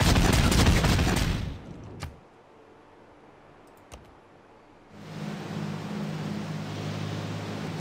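Units firing in Civilization 6 give a loud burst of gunfire in the first two seconds, then a quieter stretch with a couple of sharp clicks, before another sustained wash of game sound returns.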